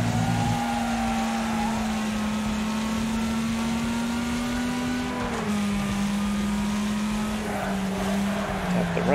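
Race car engine held at full throttle in a racing video game, a steady loud drone with its pitch sagging slightly at two points, running continuously under a voice talking.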